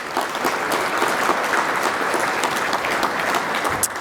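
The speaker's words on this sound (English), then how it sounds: "I want you guys to do another round of applause" A conference audience gives a steady round of applause at a farm event, dense and continuous clapping throughout with no talk over it.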